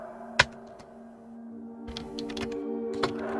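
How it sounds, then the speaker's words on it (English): Keys tapped on a computer keyboard, a few sharp isolated clicks followed by a short burst of quicker keystrokes, close and clear over a steady electronic hum. "so we will type it like this"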